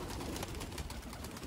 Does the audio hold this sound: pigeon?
yes